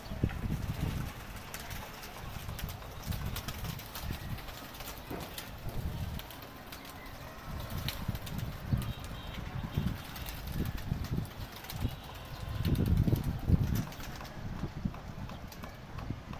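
Pigeons in a rooftop loft give soft, low cooing and shuffle about, with scattered fluttering and scratchy footsteps over a faint steady background; no voices are heard.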